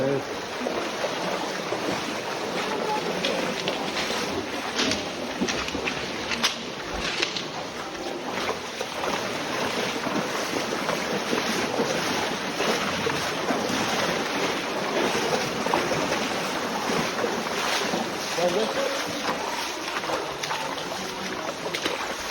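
Waves slap continuously against a boat on a lake, a loud, dense wash of water mixed with wind buffeting the microphone for the whole stretch.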